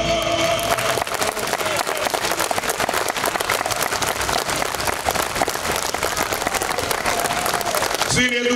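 Steady, loud audience applause at a folk choir and instrumental concert in Moinesti, continuous clapping from a crowd that fills the whole stretch before cutting off abruptly near the end.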